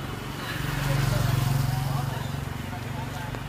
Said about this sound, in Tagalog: Oh, may motor.